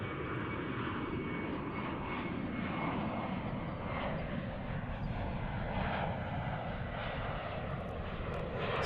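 Emirates airliner jet engines roaring steadily at DFW airport, a broad continuous rumble from a distance that holds level throughout, no talk over it.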